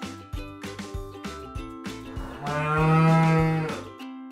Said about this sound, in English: Cows are my favorite. Moo.